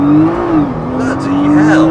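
A car launches hard from a standing start, its engine revving loud and close with a strong steady tone that dips briefly and climbs again, tires squealing, and a voice cries out over it.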